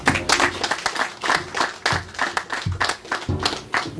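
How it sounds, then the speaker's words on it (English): Audience applause at a startup program closing ceremony, a loud, dense burst of clapping with uneven peaks that carries on steadily throughout. "A round of applause for her again."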